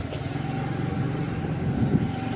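A scooter rides along with a steady, moderately quiet engine hum and road rumble, close and continuous.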